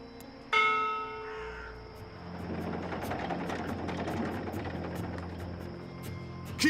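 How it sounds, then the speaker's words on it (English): A ship's bell on a cloud ship in the video game Dreamfall Chapters strikes once with a bright ringing tone that decays, followed by a steady droning engine-like hum of the airship. "this is a ship's bell. They use this to signal the crew when a load of cargo's ready to be hoisted up"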